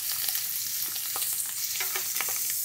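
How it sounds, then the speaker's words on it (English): Rabbit pieces browning in butter and oil give off a steady hissing sizzle with occasional pops and soft scraping from a utensil, heard close and without talk. "Browning rabbit takes a few minutes. Browning rabbit takes time."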